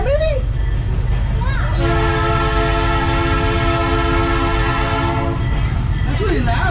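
Train horn at a fall train festival in New Jersey, one long, loud, close blast lasting several seconds over a rumbling, noisy crowd with voices audible.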